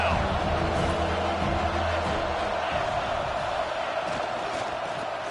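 Steady roar of a packed football stadium crowd during a college game between BCS and Tennessee, a dense continuous wash of cheering and noise held throughout, with a commentator's voice running over it.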